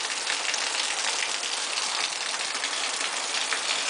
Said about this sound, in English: Come on, hurry up, it's raining!